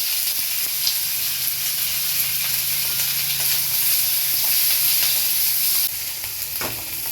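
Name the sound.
onion sautéing in oil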